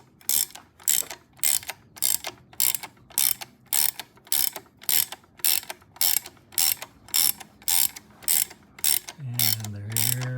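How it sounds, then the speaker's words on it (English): A ratchet wrench clicks in steady bursts while tightening down a part during a Norton isolastic replacement, roughly a dozen quick rhythmic rounds up close. A low engine-like hum rises at the very end. "getting ready to tighten this guy down like so and push that in."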